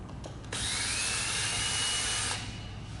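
A power drill or driver backs a screw out of the end cap of an electric RV awning roll tube. A single whine lasting about two seconds sounds close and moderately loud, framed by quiet handling noise, with no talking.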